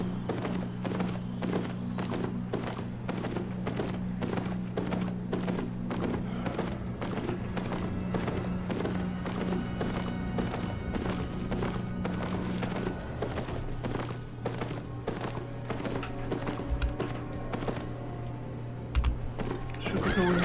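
Horse hooves clip-clop steadily in Albion Online, a fast even stream of hoofbeats over a constant low hum, ending with a couple of heavier thuds.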